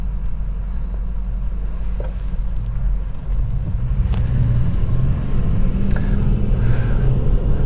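A Tesla running on FSD 12 accelerates hard, a low steady rumble of motor and road noise that swells slightly as speed builds, with wind buffeting and no talking.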